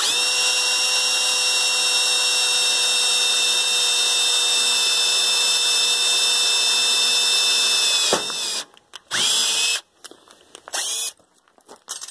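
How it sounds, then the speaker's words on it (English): A power drill runs at its lowest speed, boring into steel, a steady high whining hum held for about eight seconds before cutting off, then a few short bursts follow with pauses between. "And I'm going on the lowest speed this drill has, and I'm trying to push hard."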